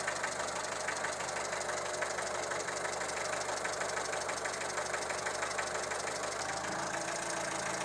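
A Renault 11 GTL with a carburettor engine idles steadily and close by, its mid-pitched running sound carrying a slightly uneven, knocking rhythm from occasional misfires, with no other sounds over it.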